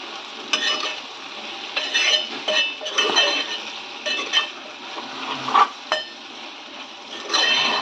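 Brinjal curry being stirred in a pan with a spoon, with repeated scraping and clinking strokes over a steady sizzle, close and fairly loud, with no talking.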